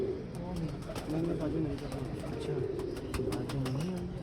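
Several pet pigeons gathered together on a morning give soft, repeated throaty coos that overlap in low rolling phrases, close by and steady throughout.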